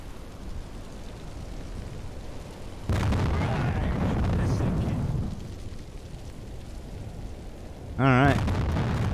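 Torpedo strikes on a ship in a U-boat video game: a sudden heavy blast rumbles for a couple of seconds, then fades, and a second sharp burst hits near the end over steady ambient noise.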